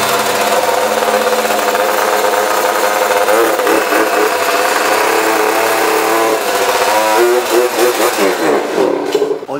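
A motorcycle engine starts and runs steadily, loud and close, with a buzzing mechanical drone that revs and wavers toward the end.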